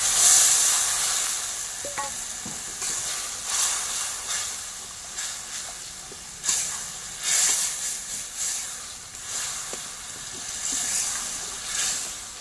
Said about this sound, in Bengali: ওটা ভালো করে কষার জন্য একটু জল দিয়ে দেবো